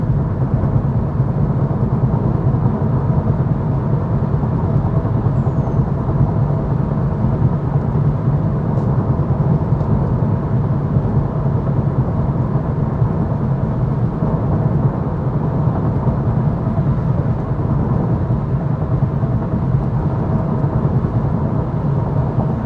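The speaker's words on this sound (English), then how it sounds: "So hopefully that's enough to give you a good idea of the road noise and even wind noise between the two vehicles" Steady, low road noise and rumble inside a 2023 Honda Accord Hybrid Touring while driving, a continuous even drone with faint wind hiss and no talking.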